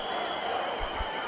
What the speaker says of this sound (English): Let's take the applause.